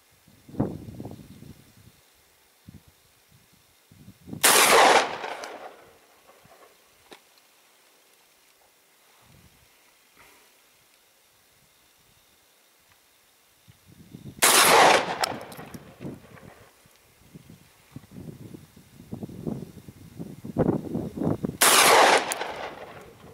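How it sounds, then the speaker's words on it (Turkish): Three loud, sharp rifle shots at a long-distance shooting range, spaced roughly ten seconds apart, each with a short echoing tail, with quiet handling noises and low rustling between them. "Atış serbest."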